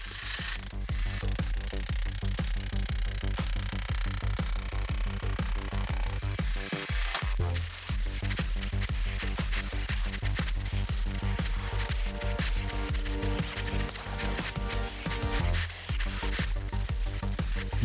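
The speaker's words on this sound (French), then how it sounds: "on continue de piquer le soubassement" Continuous rough clattering and scraping as old cement is chipped off the base of a wall during renovation, dense and loud throughout with brief pauses near seven and fifteen seconds.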